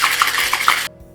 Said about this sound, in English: bang it together and give it a good solid shake for about 10 seconds.